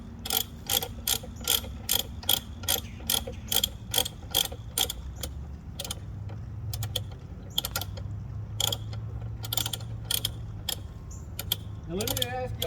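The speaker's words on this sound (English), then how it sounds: "I'm going to take this bottom nut off" A ratchet wrench clicks in quick, regular bursts as it backs a bottom nut off a bolt while changing a side stack insulator, close and fairly quiet, with pauses between strokes.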